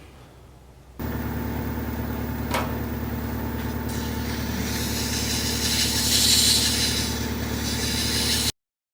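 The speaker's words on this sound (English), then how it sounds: "Okay, time for sanding." A lathe motor starts and runs with a steady, droning hum, and a soft abrasive hiss of sandpaper on a turned wooden snowman swells briefly partway through before the machine cuts off.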